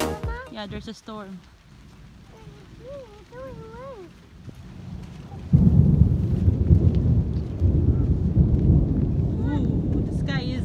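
A thunderstorm arrives with a low, heavy rumble of thunder and a rising wash of rain that turns loud and steady halfway through, after earlier stretches of people talking nearby.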